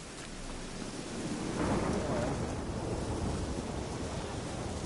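Steady heavy video-game rain pours throughout, with a deep roll of thunder swelling near the middle and rumbling on beneath the downpour.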